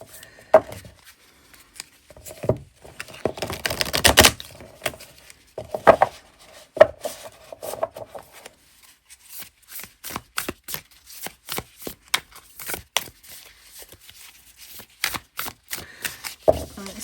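Stiff cardstock tarot cards are shuffled by hand, producing irregular clusters of riffling, snapping card sounds at close range with brief pauses between bursts.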